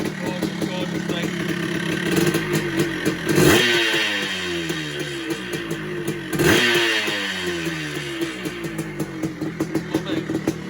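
Close, loud revving from a 1979 Honda CR250 Elsinore two-stroke motorcycle, a steady crackling idle broken by two strong throttle blasts that swell and fall back.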